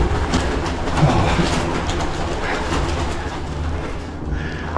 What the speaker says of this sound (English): Look at all these pigeons.